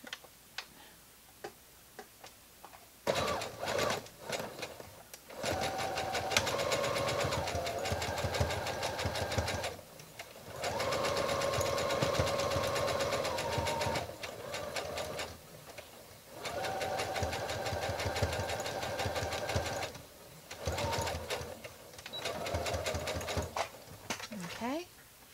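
A sewing machine runs a straight stitch across gathered fabric in several bursts of fast, even mechanical ticking and whirring, close by, with brief stops between runs.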